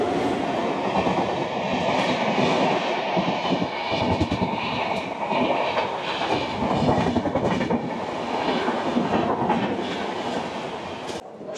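Purbanchal Express, the Kolkata to Gorakhpur train, runs loud and close with a steady rumble and rhythmic clickety-clack of wagons over rail joints, sustained throughout with no voices.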